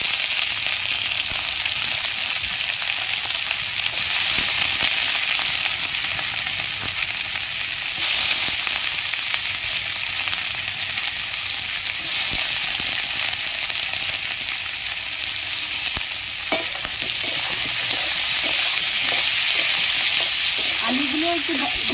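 Onions, then potatoes, fry in a pan for a kachki fish dish, a loud, steady close sizzle with stirring scrapes throughout.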